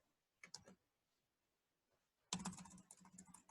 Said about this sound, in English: You're still typing.